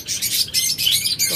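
Caged pet birds, lovebirds, budgerigars and cockatiels, chirp in rapid overlapping bursts, bright and close, a busy continuous twittering with no voices.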